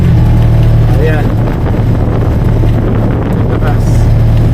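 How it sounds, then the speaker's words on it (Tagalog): Strong gusts buffet an outdoor microphone in an exposed, windy spot, a loud continuous rumble and roar that runs through the whole clip, with a low steady engine-like hum beneath. "Dito sa lugar na ito malakas sa hangin eh."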